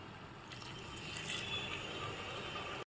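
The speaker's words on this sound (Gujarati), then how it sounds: "પાણી એડ કરી દીધું છે।" Water runs into a pressure cooker holding ivy gourd and potatoes, a soft continuous trickle and splash that ends abruptly, with no voices.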